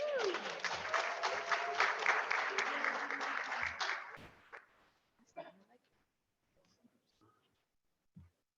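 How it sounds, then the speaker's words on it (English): Audience applause at a council meeting's Martin Luther King Jr. celebration, a full round of clapping with a voice over it, fading out after about four seconds into quiet rustles and murmurs. "Once again, let's give them a round of applause."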